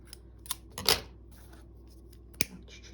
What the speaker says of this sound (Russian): обрезаю ниточку